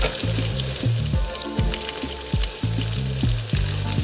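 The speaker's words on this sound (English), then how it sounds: "I'm going to just saute these on the side and then add them at the end." Vegetables sauté in a pan on the side for a vegan omelette, a steady close sizzle and fry broken by repeated rhythmic stirring scrapes, with no talking.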